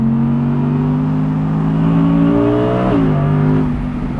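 An Audi R8 V10 Performance Spyder engine revs steadily at about 5000 rpm, a loud, sustained ten-cylinder drone that rises in pitch and briefly dips near the end before holding again, with no talk.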